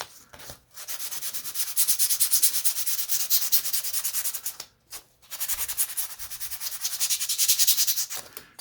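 Fine 600-grit wet-and-dry sandpaper, used dry, rubs rapidly back and forth over a surface coated with sanding sealer in two long runs separated by a short pause, a close, dry, rhythmic scratching.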